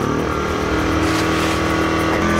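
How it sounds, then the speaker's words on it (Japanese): A small portable generator engine, pull-started with a recoil starter, runs loud and close, a steady buzzing drone with a rough, uneven rumble underneath. "それでは発電機始動させていきたいと思います。"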